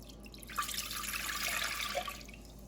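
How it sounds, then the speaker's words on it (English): Chicken stock pours into a pan for baked grits, a soft continuous liquid splash that swells over about two seconds and then tapers off, heard close and fairly quiet. "I'm going to pour the chicken stock into the pan."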